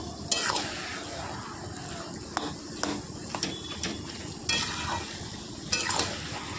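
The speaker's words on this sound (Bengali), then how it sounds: "এরপর ভালো করে নেড়ে মিশিয়ে নেব" A spatula scrapes and knocks in a pan as taro leaves with salt and turmeric are stirred for a hilsa-head dish, with several distinct clanks over a soft background sizzle.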